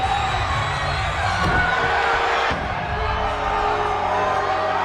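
A simulated fight crowd on its feet during a Miguel Diaz versus Johnny Lawrence bout, with a sustained roar of cheering and scattered whoops and shouts over indistinct voices.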